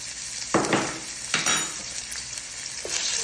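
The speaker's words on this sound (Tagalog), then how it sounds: "At ilalagay ko na itong 1 tablespoon ng ginger at garlic mix." A spoonful of ginger and garlic mix sautés in hot oil in a pan for Filipino-style Canton noodles, a bright steady sizzle with a few sharp stirring scrapes, close and fairly loud, no talking.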